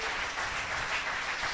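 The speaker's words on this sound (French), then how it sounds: "Put your hands together." Steady, dense applause from a church congregation fills the space, a continuous wash of clapping with no voices standing out.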